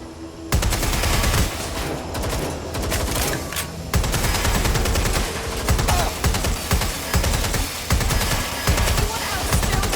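Video game gunfire erupts as dense, loud bursts of automatic shooting after a brief quiet start, with rapid repeated shots and heavy volleys continuing nearly throughout.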